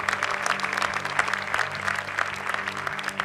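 A church congregation claps steadily throughout a worship service, a dense, continuous patter of many hands at moderate distance with a faint crowd murmur.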